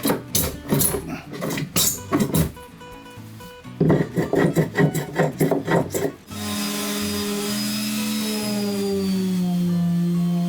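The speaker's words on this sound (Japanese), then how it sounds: "そしてこの節の部分もね、もう一度削ってきれいに仕上げて" Hand shaving across a knot on a hinoki cypress shelf board, a series of close, rasping wooden strokes in bursts, then a steady, louder continuous whir with a rising tone for the last few seconds.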